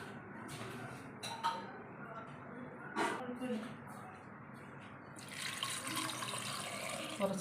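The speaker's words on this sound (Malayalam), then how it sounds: "കുറച്ച് വെള്ളം ഒഴിച്ച്" Water pours into a pressure cooker in a home kitchen, a rushing flow that begins late and runs to the end. Softer clinks and brief splashes come before it, with quiet background noise throughout.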